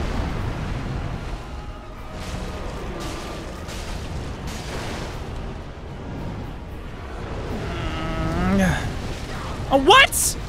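Defensive fire attack from a Dark Souls 3 boss in the Ringed City: a rumbling, swelling blast of flame that builds to sharp bursts near the end, heard over continuous battle noise and a talking player.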